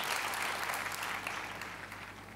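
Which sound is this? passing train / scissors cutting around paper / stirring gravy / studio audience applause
studio audience applause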